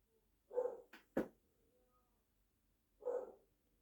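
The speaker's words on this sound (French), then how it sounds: "le chien qui aboie après les esprits" A dog barks indoors at nothing, two short close barks with a quick snort or click between them, then a pause and one more bark.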